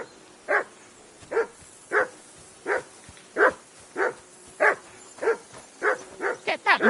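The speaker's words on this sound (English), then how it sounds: "Get that mutt of yours to stop barking, will you?" A dog barks in the video game Kingdom Come Deliverance II, about a dozen sharp, fairly close barks in an even rhythm, roughly one per second, quickening near the end.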